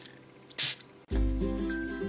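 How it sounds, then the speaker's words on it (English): A scented shimmer spray bottle for a little pony toy gives a short, close hiss of spray onto a hand, followed by a louder clatter and rustle as the bottle is handled. "I am gonna try to spray it on my hand"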